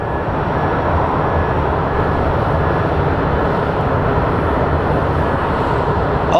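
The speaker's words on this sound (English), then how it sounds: "So we have American Airlines 500 headed to Boise." A steady, loud broadband roar of an American Airlines jet airliner at Phoenix Sky Harbor airport, constant throughout with no talking over it.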